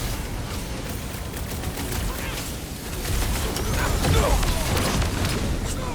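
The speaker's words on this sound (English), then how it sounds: "They keep throwing troops at us! And we keep shooting them." Combat in the Guardians of the Galaxy video game, with scattered gunfire and impacts in a dense, busy mix under game music and voices.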